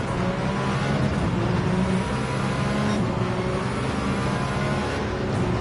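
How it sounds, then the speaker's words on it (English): A BMW racing car in the Gran Turismo 7 video game runs with a steady, fairly flat engine drone. Broadband road and tyre noise stays even throughout, with no sharp revs and no talking. "The engine sounds a bit boring to me."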